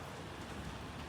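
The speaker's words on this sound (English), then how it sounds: "this rain is coming down" Heavy early-morning rain pouring down steadily outdoors, a soft, even hiss of drops with no breaks, fairly faint and unbroken throughout.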